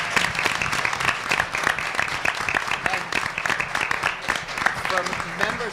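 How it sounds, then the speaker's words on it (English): Applause at a school board of education meeting for a team of student leaders, a steady dense round of clapping filling the room, with voices mixed in throughout. "if we could just pause for one last round of applause for this team of leaders"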